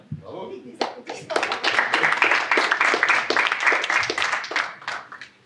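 An audience at a science lecture bursts into applause: a few scattered claps swell into dense, lively clapping that holds for several seconds before thinning out.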